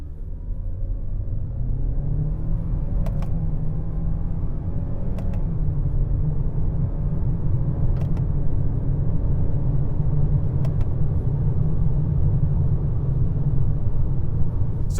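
A 2025 Kia K4 GT-Line Turbo accelerates in sport mode, heard from inside the cabin as a steady low engine and road rumble with a rising drone and a few brief clicks, unbroken and with no talking.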